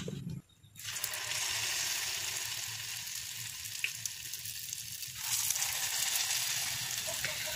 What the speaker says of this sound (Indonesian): kita ambil adonannya ini untuk digoreng ke dalam wajan satu per satu